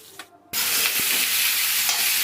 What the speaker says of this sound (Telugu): ఆ తర్వాత కట్ చేసి పెట్టుకున్న ఆనియన్స్, అలాగే క్యారెట్, పొటాటో వేసుకొని ఒకసారి కలిపేసుకోండి.